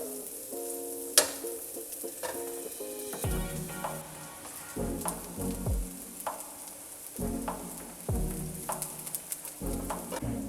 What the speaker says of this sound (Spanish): Ya que están bien doraditos nuestros cebollines